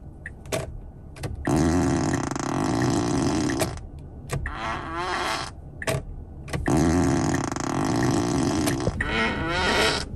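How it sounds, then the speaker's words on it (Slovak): Loud, long, buzzy fart noises repeat in several bursts, used in place of a Tesla P100D electric car's turn-signal click, with brief pauses between them. "Necháme tie prdy smerovkárske zapnuté"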